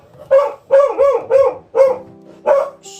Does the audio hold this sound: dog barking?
yes